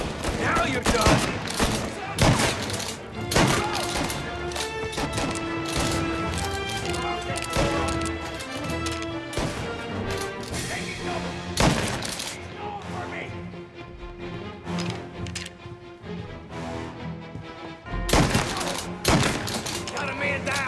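Gunfire in a shootout from the Mafia Definitive Edition game, rapid sharp shots and bursts over tense orchestral music, continuing throughout with shouted voices mixed in.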